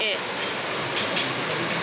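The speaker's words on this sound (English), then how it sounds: "Yeah, the waterfall's there." A Swiss waterfall roars as a dense, steady wash of broadband noise, loud and continuous, with faint voices mixed in underneath.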